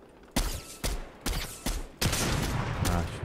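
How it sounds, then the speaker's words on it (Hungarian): Sniper gunfire in Fortnite, four or five sharp, loud shots cracking out at uneven intervals, each followed by a short echoing tail, with no talking. "Hallottad, hogy snipereznek?"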